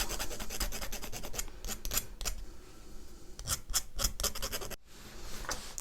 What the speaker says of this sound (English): listening to the sound of files